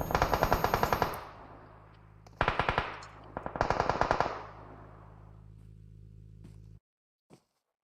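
Automatic gunfire in the mobile battle royale game PUBG Mobile: several loud rapid bursts, each about a second long, separated by short pauses over a steady low background hum, then a single faint click.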